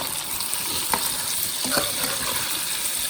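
Mutton karahi with about eight spoons of yogurt being stirred in a wok, a loud, close continuous sizzle and frying hiss with occasional soft scrapes of the spoon against the metal, no talking.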